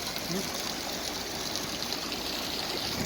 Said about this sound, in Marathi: आता पाणी चांगल्या प्रकारे लागलेलं आहे